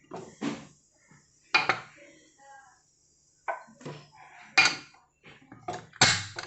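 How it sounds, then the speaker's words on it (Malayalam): A pressure cooker lid is fitted and closed over beef being cooked, giving several sharp metallic clanks and clunks spaced between quiet pauses, with some voices nearby. "നമ്മൾ കുക്കർ മൂടാൻ പോവാണ്"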